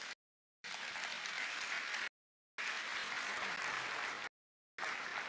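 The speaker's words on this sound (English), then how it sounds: "absolutely, you can clap for it." Audience applause at the Microsoft Build 2023 keynote conference: bursts of dense clapping from a large crowd, broken by abrupt silent gaps between stretches.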